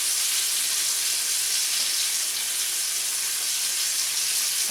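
Chicken cutlets frying in a hot pan for chicken piccata give off a steady, bright sizzling hiss that stays even and close for the whole stretch, with no talking.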